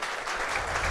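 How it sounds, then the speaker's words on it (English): Audience at a soccer press conference breaks into a brief, even burst of applause, a steady rush of clapping heard for about a second. "Thank you for the applause"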